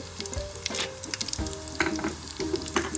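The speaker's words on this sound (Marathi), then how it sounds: "हे बघा गाईज, मी आता ह्याच्यामध्ये तूप ॲड करते. त्याचबरोबर काजू बदाम ॲड करते." Ghee with cashews and almonds sizzles and crackles steadily in a hot pan for chicken biryani, a dense, close frying hiss with frequent small pops and stirring scrapes throughout.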